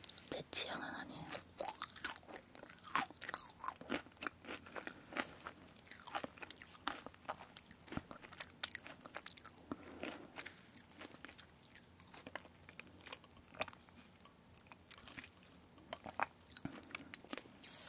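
Crunchy meringue cookies, including an injeolmi flavor, are bitten and chewed very close to the microphone, quiet crisp crackles and crunches in irregular bursts throughout.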